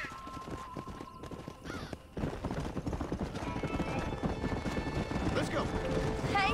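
Horse hooves clip-clop in Red Dead Redemption, a steady rhythmic plodding with an occasional whinny, heard up close beneath in-game character dialogue and background music.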